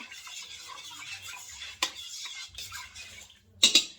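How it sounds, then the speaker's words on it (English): A quick stir of a chicken dinner mixture in an Instant Pot: soft scraping and rubbing of a utensil against the pot, ending with a couple of sharper clinks, close and fairly quiet. "Give that a quick stir here."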